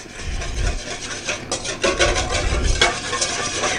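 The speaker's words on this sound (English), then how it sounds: "And then we have our whisk to whisk it up." A whisk beats a mustard mixture for stuffed portobello mushrooms, giving a close, rough rubbing and scraping in quick uneven strokes against the bowl, with no voice over it.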